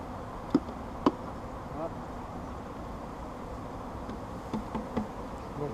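Honeybees buzz around an open hive during a spring swarm transfer, a low steady hum with a few faint knocks, under quiet talk.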